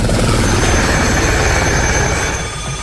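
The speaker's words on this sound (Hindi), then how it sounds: "हेलीकॉप्टर सुबह से ही ग्लेशियर पर उड़ान भरते रहे हैं।" Loud, dense rotor clatter and turbine whine of military helicopters flying over a high-altitude glacier near a base camp, a continuous close roar that fades slightly at the end.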